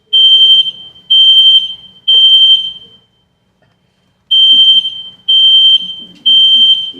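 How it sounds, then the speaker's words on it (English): A fire alarm blares indoors during a school meeting, loud shrill piercing beeps in steady bursts about a second apart, a short pause, then the pattern resumes. "Fire alarm."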